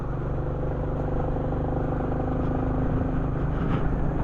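A Royal Enfield Classic 350 motorcycle cruising steadily in top gear at around 50, with a constant loud engine drone and road and wind rumble that holds level throughout, with no gear changes.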